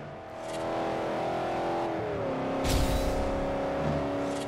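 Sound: car engine driving in video game Forza Horizon

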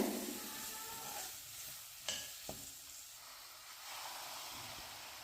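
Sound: stirring and cooking greens with brinjal in a pan

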